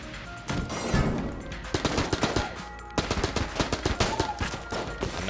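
The AU gun in the video game Enter the Gungeon fires loud, rapid volleys of shots in near-continuous bursts, with a short pause partway through and no speech.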